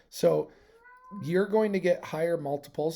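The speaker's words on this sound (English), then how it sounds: "If you heard my cat meowing, he says hi." A cat meows clearly nearby, one short call followed by a longer drawn-out meow, with a person speaking briefly around it.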